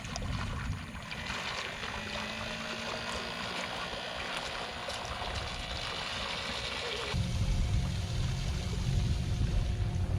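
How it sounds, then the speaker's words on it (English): A small bilge pump motor powering a kayak hums continuously with water churning and splashing, getting louder and heavier in the last few seconds. "Let's see how this bilge pump reacts."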